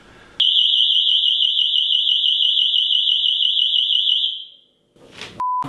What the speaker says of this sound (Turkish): Şu alarmı kurma ya. Ötecek şimdi ben adım atarken.